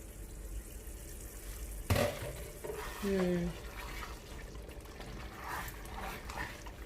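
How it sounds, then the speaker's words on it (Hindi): Beef keema frying in a karahi over medium-high flame gives a continuous sizzle, with a sharp clatter and some brief scraping where it is stirred, while a voice speaks intermittently over it. "6 से 7 मिनट तक अब हम इसे पकाएंगे। फ्लेम हम जो है वो रखेंगे हमारी मीडियम हाई।"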